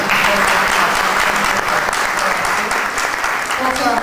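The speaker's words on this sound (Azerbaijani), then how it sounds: "Ona da bir alqış Rafael bəyə." Sustained applause from a concert audience at a charity concert in Stockholm, dense and steady throughout, filling the space with close, continuous clapping.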